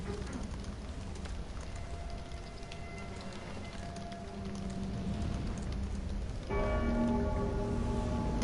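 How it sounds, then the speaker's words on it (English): A large bell tolls in the Dark Souls III video game, its sustained ringing tones swelling in over a low rumbling ambience and growing louder and fuller toward the end. "This is the bell we've been hearing."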